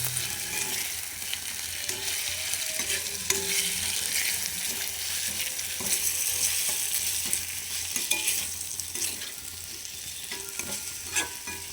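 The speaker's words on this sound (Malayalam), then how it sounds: "ചിക്കൻ ഇട്ട് കൊടുത്തിട്ട് നന്നായി ഒന്ന് മിക്സ് ചെയ്യാം." Chicken pieces are stirred and fried in a hot pan, giving a continuous sizzle broken by repeated scraping, clattering spoon strokes, close and fairly loud.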